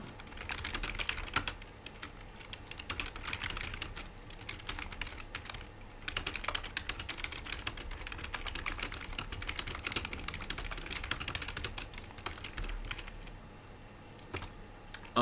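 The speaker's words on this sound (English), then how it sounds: "that is actually my keyboard. I have a very noisy keyboard." Rapid, heavy clacking of a loud computer keyboard, keys struck continuously in uneven bursts, close and fairly quiet with no voices.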